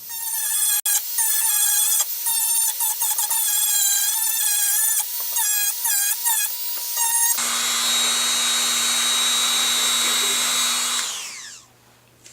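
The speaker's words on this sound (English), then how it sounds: "So I'm going to sand this one and this one until I can slide this in." A power tool whines loudly and closely as it sands a piece of door structure, with short stuttering bursts at first, then a steadier lower drone that winds down near the end.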